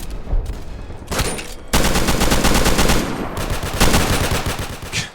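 Rapid automatic gunfire in a Roblox first-person shooter game, loud dense bursts of shots with brief gaps, alone without talking.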